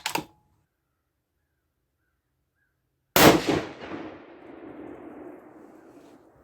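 A 6.5 PRC rifle firing a Hornady 140-grain match load, one sharp loud report followed by a long, fading outdoor echo, with a faint click just before.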